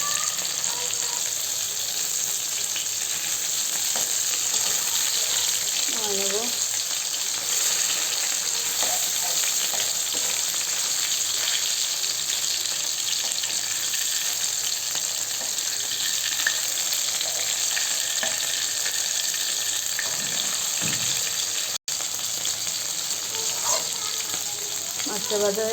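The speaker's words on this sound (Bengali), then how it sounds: "মাছটা ভাজা হয়ে গেছে। ইলিশ মাছ আবার বেশি ভাজলে ভালো লাগে না।" Hilsa fish frying in hot oil in a home kitchen, a steady close sizzle running throughout with occasional stirring clatter and brief speech.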